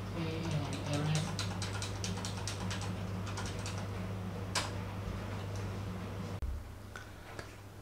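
A keyboard connected to an MXQ Pro 4K TV box is typed on in quick bursts of close, light key clicks over a steady background hum.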